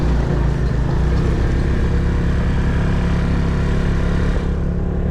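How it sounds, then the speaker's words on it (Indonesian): Heavy tractor engines working at a road construction site on the route from Citeureup to Sukamakmur, a loud, steady low diesel rumble with a pulsing throb, close by and continuous with no talk over it. "Traktor di mana-mana."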